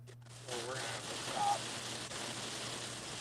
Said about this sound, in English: Or wind and rain got a little bit strong on us there.